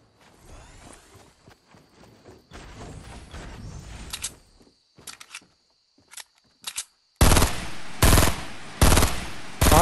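Fortnite gunfire from a squad match: scattered clicks and short bursts at first, then several loud, sharp volleys of rapid shots near the end, with pauses between them.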